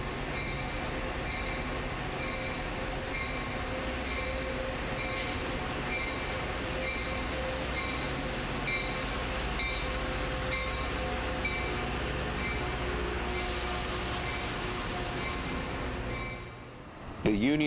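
Metra commuter trains rumble and roll through a busy Chicago station in a steady, loud wash of wheel and engine noise, with a brief high squeal near the end.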